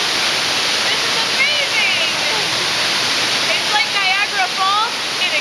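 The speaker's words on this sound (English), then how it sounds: "this is a big waterfall inside of it" A big waterfall inside a cave in Taiwan roars loudly and steadily as a broad, constant rush of water. Faint whistling chirps rise above it now and then.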